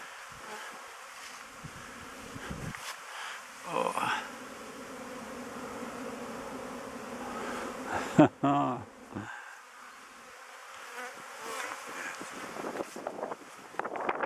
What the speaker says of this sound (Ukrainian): ну льот дуже хороший, а й гул приємний